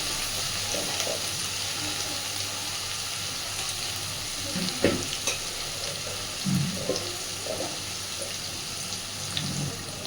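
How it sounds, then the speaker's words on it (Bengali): Leftover rice and fried vegetables are stirred together in a hot pan, with a constant soft sizzle and occasional scraping taps of a spatula, all fairly quiet and without talk. "এইবার এর মধ্যে আমি ভাতটা মিশিয়ে দেব।"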